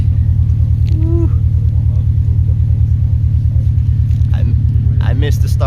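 A 2018 Subaru WRX STI with an Invidia R400 exhaust, Cobb SF intake and Cobb Access Port tune idles loudly and close by, a deep, steady burbling rumble with a rapid even pulse, while a few voices chatter over it.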